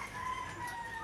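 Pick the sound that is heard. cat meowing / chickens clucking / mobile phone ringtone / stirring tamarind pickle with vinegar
chickens clucking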